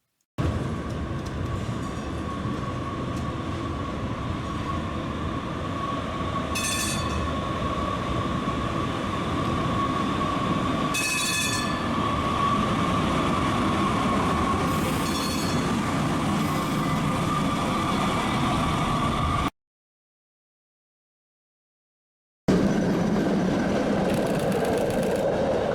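Breda light rail trains on the San Francisco Muni J line roll past with a steady loud rumble and wheel hiss, punctuated by occasional high squeals and clatter, then a brief gap before the rumble resumes.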